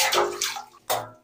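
Water poured out of a mug while a household water tank is being emptied for cleaning, arriving in two close, splashing gushes, the second one short and abrupt.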